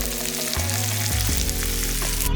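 Mushrooms browning in a frying pan sizzle steadily up close, a dense crackling hiss layered with a low, stepped hum that shifts in pitch a few times, fairly loud and continuous without speech.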